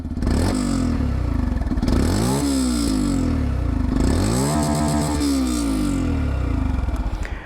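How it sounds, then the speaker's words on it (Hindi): Yamaha FZS V4 motorcycle exhaust revved in two bursts, each climbing to a raspy, buzzing peak and dropping back to a lumpy idle, close and loud with no talk. "अब अगर मैं आप लोगों को यहाँ पर FZS वर्जन 4 की आवाज़ सुनाऊँ"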